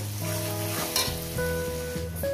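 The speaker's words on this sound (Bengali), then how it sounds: "এটাকে 2-3 মিনিট আমি পেঁয়াজটাকে সুন্দর করে ভেজে নেব" Onions sizzle steadily in hot oil in a pan for a fish curry, a soft continuous frying hiss partly masked by a louder melodic background tune.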